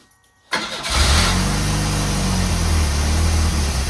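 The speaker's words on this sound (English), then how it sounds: "This thing starts up instantly now." A project car's engine cranks and catches after a brief silence, quickly settling into a loud, steady running rumble.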